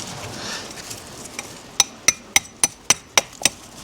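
Seven sharp metallic knocks in a steady rhythm as a medieval harbour metal-detecting find is struck free of its hard concretion, close and clear, after a few scattered softer taps and rustles.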